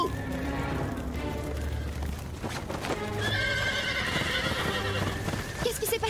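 Animated horses at a ranch during a fire, neighing and whinnying loudly with hooves clopping, amid a tense, busy background with voices.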